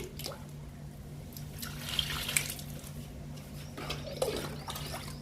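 Liquid fertilizer water is poured onto indoor potted plants. It gives a soft, steady trickle and splash with brief louder gushes, faint and close, over a low background hum.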